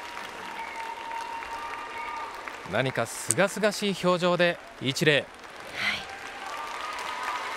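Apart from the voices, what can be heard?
audience applause at gymnastics world championships venue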